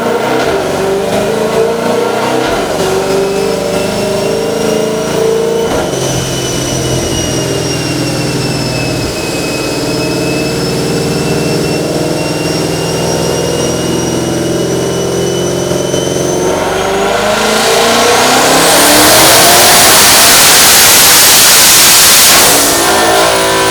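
CX1600TT engine revving hard under load on a dyno during a wastegate pull, a loud steady roar climbing in pitch with a whining tone, ending in a bright rushing blast.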